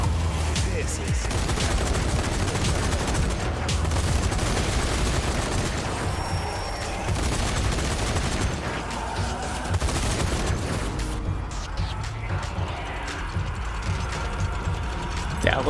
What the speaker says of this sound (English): I love the fact this is like dual MG34s